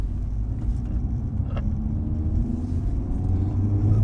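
An Acura Integra Type S on stock tires drives along a road, giving a steady low rumble of engine and tire noise heard from inside, growing slightly louder toward the end.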